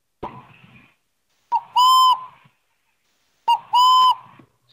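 A boreal owl gives two clear whistled hoots, each a short lead-in note followed by a sustained pure tone, spaced about two seconds apart in otherwise quiet surroundings.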